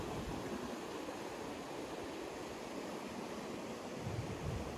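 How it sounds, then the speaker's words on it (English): Steady broadband rush of river water where the Yankee Fork meets the Salmon River near Sunbeam, Idaho, a continuous moderately loud flow with no voices. "Here is the confluence of the Yankee Fork and the Salmon River"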